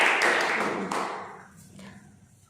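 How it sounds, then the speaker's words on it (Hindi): Children in a classroom give a short burst of clapping, fairly close and busy at first, then thinning and fading within a couple of seconds. "तालियां मारो"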